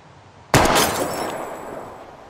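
A sharp gunshot bursts in with shattering debris as old computer monitors are blown apart in the video game Life is Strange, followed by a long fading crash and rumble.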